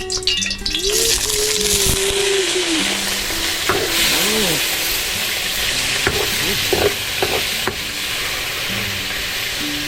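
Chili hitting hot cooking oil in a pan, a loud continuous sizzle with stirring scrapes, while people talk and voices come and go over it.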